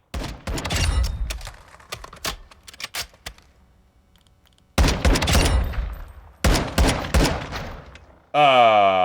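Mark 20 SSR rifle fire in Call of Duty Modern Warfare II, loud sharp shots in spaced bursts with quiet gaps, ending in a sweeping electronic whine.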